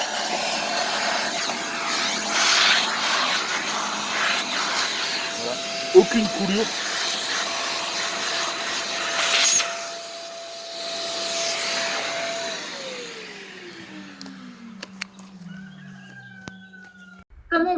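A Hilti vacuum whooshes loudly and steadily as it sucks up leftover water after core drilling, then winds down with a falling whine while someone speaks nearby.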